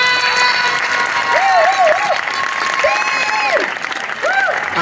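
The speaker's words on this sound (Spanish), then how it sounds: "a la cuenta de tres, ese gran aplauso y este espectáculo comienza." A crowd claps loudly and steadily for a summer street show in a plaza in Rota, Cádiz, with sliding whistles rising over the continuous applause for about five seconds.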